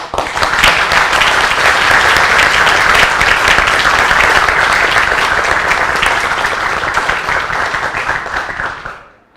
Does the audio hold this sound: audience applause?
yes